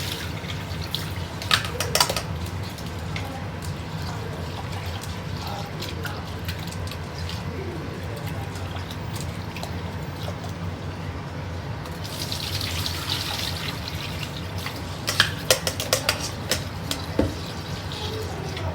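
Tap water runs into a sink while rice is rinsed for a Greek pilaf, a steady splashing stream with sharper bursts of swishing and gushing near the start and toward the end, close and without talk.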